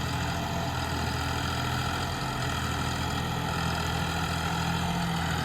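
A John Deere 5405 CRDI tractor engine runs steadily in a field, a continuous loud diesel drone with a deep low hum that holds even throughout, with no talk.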